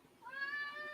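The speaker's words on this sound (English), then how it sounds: "Oh, that's a cat." A cat meows once, a short rising and falling call that is fairly faint, alone with no talk over it.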